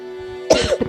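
A sudden cough bursts out midway, followed by a second shorter one, close and loud over a steady electronic hum, during a seated cross-legged stretching routine.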